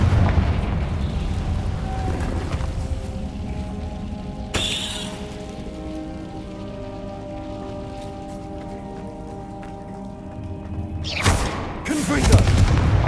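Confringo fire spell explosions in Hogwarts Legacy, a sharp blast near the start and a loud burst near the end over a steady low rumble with a faint musical drone.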